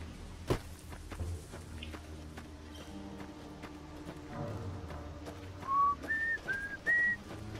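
In Fallout 3, a short whistled tune of four rising and falling notes plays near the end, after a stretch of quiet footsteps and faint clatter in the game.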